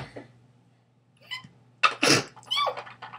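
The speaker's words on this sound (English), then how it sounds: "I'm gonna sneeze" A woman's sneeze bursts out loud and close after a brief stifled build-up, followed by a few shorter breathy aftershocks and gasps.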